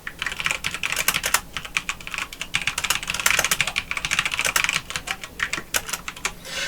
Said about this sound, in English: I'm going to type in my own description in the box down here.